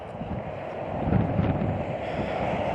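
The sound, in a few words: cold wind blowing by an interstate bridge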